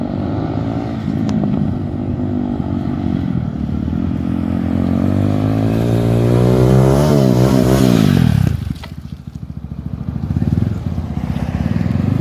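A brand-new CXR 250cc sports motorcycle on a test drive: its engine drones steadily and loud, then revs up in a rising sweep before the pitch suddenly drops away and it settles back to a lower idle-like note.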